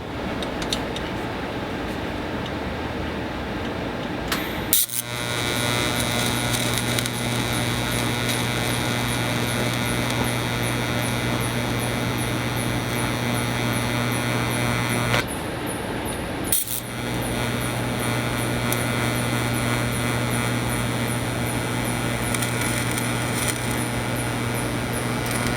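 TIG welding on rectangular tube, a steady electric buzzing hum with a faint sizzle, broken by two brief pauses where the arc stops and restarts.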